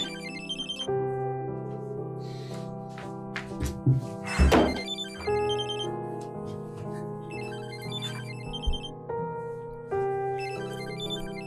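A phone rings with a repeating melodic ringtone in a domestic scene, with a brief thump and rustle partway through and a few soft sounds between the ring phrases.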